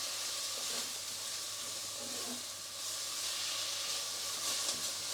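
Steady hiss of a stir fry sizzling in a hot pan just after lime juice is squeezed in, a constant broadband frying noise running the whole time with faint clinks, no voices.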